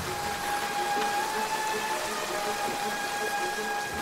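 Rain in a scene from the Downton Abbey film, a steady hiss of falling drops heard close and continuous, with a faint tonal hum running underneath.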